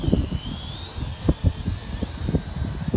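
Small drone in flight, a high whirring rotor whine that rises and wavers in pitch, with dull thumps and handling knocks underneath, fairly close and steady with no talking.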